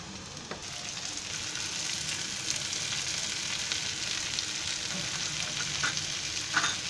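Green capsicum sizzles and fries steadily in a hot pan, with occasional stirring scrapes and clinks, close and continuous throughout, no one speaking.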